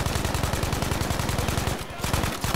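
Rapid automatic gunfire in a multiplayer video game fires in a dense, steady burst of loud, evenly spaced shots that barely pause, close up, and runs for nearly the whole stretch.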